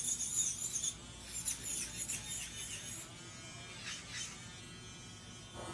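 Electric nail drill buffing acrylic nails, a steady high-pitched whine that surges and eases as the bit passes over the nail surface, fairly loud and close, with no talking.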